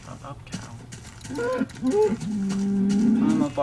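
A cow in a Minecraft-style block game lets out a long, loud moo that swells and holds steady near the end, with a few game noises and clicks just before it.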